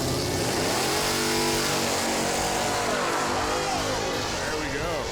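Drag racing cars accelerate hard down the strip at Area 51 Dragway in New Mexico, loud revving engine roar filling the whole clip with rising and falling pitch sweeps, voices talking underneath.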